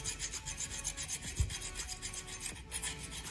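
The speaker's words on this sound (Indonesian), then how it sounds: "Setelah itu kita ambil kikirnya, kita kasarin guys dalamnya." A hand file rasps with short back-and-forth strokes, roughening the inside of a motorcycle mirror mount; quiet, close, rhythmic scraping with one brief knock.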